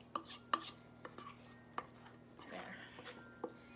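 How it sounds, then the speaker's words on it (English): Thick gluten-free pumpkin loaf batter is stirred in a bowl, with repeated scraping along the sides to work in the flour, giving irregular close clacks and soft drags over a quiet room hum. "I'm just going to just stir and scrape the sides and make sure all that flour is incorporated"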